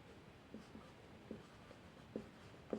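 Writing on a board during a math lesson comes through as five short, faint scratchy strokes spaced irregularly over a quiet room, with no talk.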